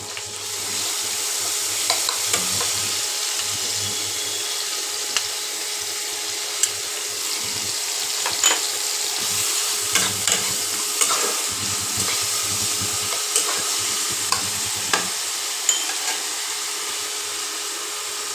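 Onion paste sizzles steadily in a hot pan while being stirred, with a continuous frying hiss broken by small scraping clicks and taps of the utensil against the pan.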